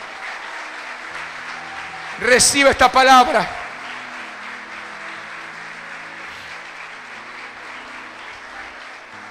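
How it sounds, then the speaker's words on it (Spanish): A church congregation in Corrientes applauds during a pastor's service: a steady wash of clapping runs throughout, while a loud shouted phrase from the preacher rises briefly over it near the start. "Dale un fuerte aplauso al Señor."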